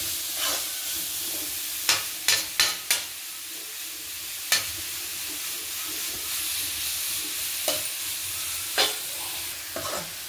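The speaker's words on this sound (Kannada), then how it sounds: "ತುಪ್ಪ ಇವಾಗ ಆಲ್ರೆಡಿ ಇತ್ತಲ್ವಾ, ಅದರಲ್ಲೇ ನಾನು ಫ್ರೈ ಮಾಡ್ಕೊಳ್ತೀನಿ" Grated carrot for halwa is stirred and fried in ghee, giving a continuous steamy sizzle broken by sharp, clustered scrapes of the spatula against the pan.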